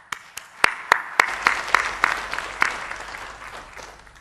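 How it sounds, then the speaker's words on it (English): Sparse applause at a defence seminar forum: a handful of distinct, sharp claps in an uneven rhythm, fading out toward the end with few hands joining. "please join with me in a round of applause"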